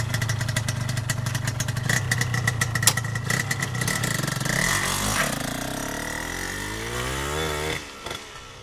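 A Yamaha TZR 150 motorcycle's two-stroke engine running nearby, a buzzy steady idle with blips of revving and a rising, falling pitch before it drops away at the end; no talking.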